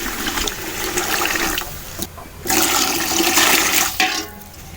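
Water pours in two gushing bursts from a vessel into a cooking pot for mutton soup. The loud splashing breaks briefly in between, and no one speaks.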